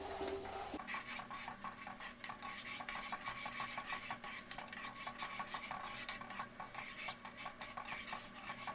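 Thick rice and coconut paste being stirred in a pan over a low flame for Poda Pitha, with steady scraping strokes and a faint sizzle running continuously, close and fairly quiet.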